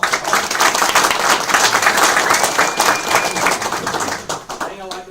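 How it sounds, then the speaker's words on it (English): An audience claps through a round of applause at a business meeting, dense and steady for about five seconds and fading near the end, with talk mixed in. "Give a round of applause."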